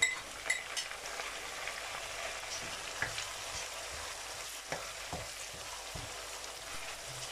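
Tomatoes fry in a pan for fish curry, with a soft, steady sizzle and occasional light taps and stirs, fairly quiet and close, no voices.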